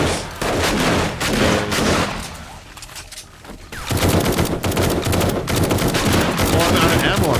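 Rapid bursts of shotgun and gunfire in 7 Days to Die Alpha 19, loud and close, with a brief lull midway before the shooting resumes densely.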